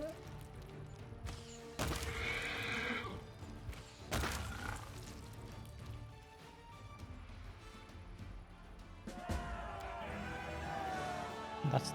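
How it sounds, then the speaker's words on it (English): Plagued horses neighing amid battle sounds in the fantasy role-playing game Pathfinder: Wrath of the Righteous, with whinnies and thuds over continuous game music and ambience. "What is that? Plagued horses,"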